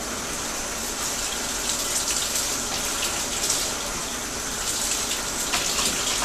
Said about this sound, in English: I'm going to let my sink run for a moment, heat up, and do that